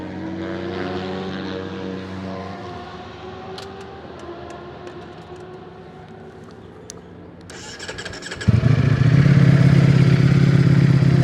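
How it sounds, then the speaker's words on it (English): A Ducati Desmosedici RR engine idles with a low rumble, then the stock sport motorcycle revs up sharply and roars very loudly near the end. "this is one of the loudest sounding stock bikes you'll ever get to hear"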